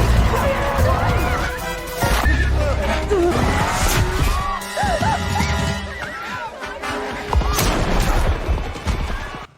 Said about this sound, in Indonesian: Mobilnya tergelincir dan akhirnya berhenti setelah menabrak pembatas.